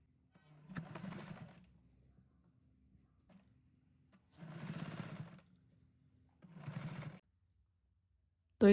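A sewing machine stitching fabric for a small doll dress for a Laddu Gopal figure: three close bursts of rapid mechanical whirring, the first two about a second and a half long, separated by quiet pauses.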